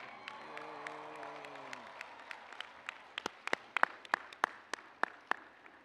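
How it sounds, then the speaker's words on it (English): A commencement ceremony audience, honoring the families, breaks into scattered applause that builds into sharper, more frequent claps after a voice trails off at the start, moderately distant in a large hall. "Please give a round of applause for all the families here today."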